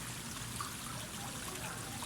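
Water flows out and fills a pool in rural Laguna, a steady close trickling stream that runs on without a break and with no voices over it.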